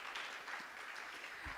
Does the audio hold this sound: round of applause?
yes